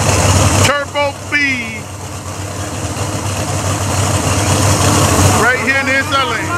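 Nitrous and turbo drag race cars rumble loudly at Orlando Speedworld Dragway, with engines idling and revving in short bursts near the track while an announcer talks over them.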